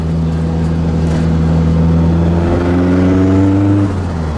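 Toyota AE86 with a turbocharged SR20 engine driving along Embankment by the River Thames in London, a steady loud engine drone whose pitch climbs slowly and then settles, close and continuous with no talk.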